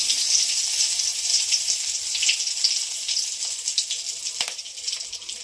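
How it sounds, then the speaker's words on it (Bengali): Two bay leaves and dried red chillies sizzle in hot oil as a tempering for cooked vegetarian dal, a steady close hiss of frying that runs throughout with small crackles and no talking. "এবার ফোড়ন দেবো। দেবো দুটো তেজপাতা, শুকনো লঙ্কা,"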